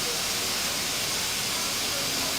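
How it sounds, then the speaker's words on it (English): Narrow gauge steam locomotive on a heritage railway at St. Nicholas Abbey purging water and steam from its cylinder, a steady broadband hiss that holds evenly throughout without break. "What I'm doing now, I'm getting all the water out of the cylinder."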